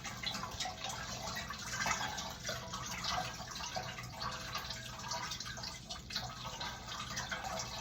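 Whey draining from cheese curd in a colander lined with muslin, a faint steady trickle and patter of liquid that continues softly without pause.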